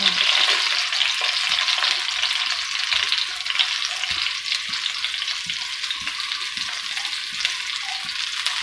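Finely chopped cabbage and other vegetables for spring roll filling fry in a pan, giving a loud, continuous hiss broken by faint taps and scrapes of stirring.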